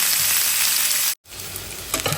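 Eggplant and potato pieces fry in hot oil with a loud, close, hissing sizzle that drops out for a moment before resuming, with light crackles near the end.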